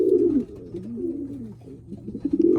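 Young pigeons bred from a breeding pair give soft, low cooing calls close by, a few rolling coos in quick succession with no talk.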